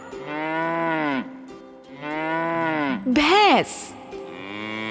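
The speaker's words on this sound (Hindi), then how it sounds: "गाय" A cow moos twice in long, low calls, followed by a louder, rising bellow, over faint background music.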